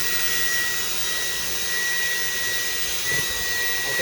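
A Dyson vacuum cleaner runs steadily while sucking lint out of a household dryer vent, giving a loud, constant high-pitched whine and airy roar that holds level throughout with no talking.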